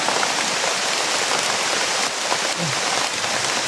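Steady, dense rain pours down in a continuous hiss, close and even throughout with no voices.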